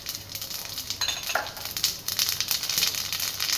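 A steady crackling sizzle of cumin seeds frying in hot oil, with faint clinks of metal on a pan.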